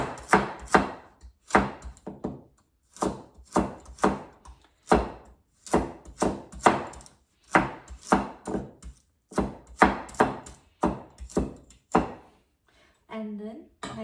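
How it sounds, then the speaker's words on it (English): A knife chops shiitake mushrooms and other ingredients for a chicken dish on a cutting board, a long run of sharp close thunks in quick uneven bursts, loud and alone with no talking. "there's no secret of chopping. Just cut the size you like. I cut it this big."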